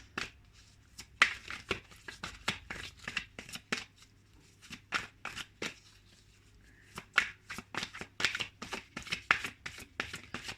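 Tarot cards shuffled by hand in a steady run of crisp, close riffling flicks and slaps, bunched into bursts with short pauses between them and no voices.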